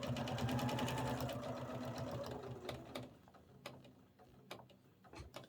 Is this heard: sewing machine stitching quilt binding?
yes